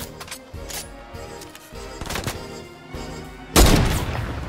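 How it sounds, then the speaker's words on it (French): Gunfire in the video game Fortnite: a scattering of sharp shots in quick succession, fairly faint, then one louder, heavier burst late in the moment. "ça tire là-bas"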